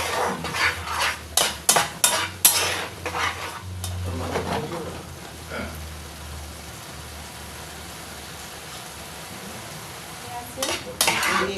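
Fish roe and poppy seed paste is stirred in a pan, with a burst of scraping spatula and clinking metal strokes early on, then a quieter sizzle, and a few more stirring scrapes near the end.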